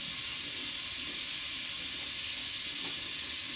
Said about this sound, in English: Now you're going to rub your hands under the water.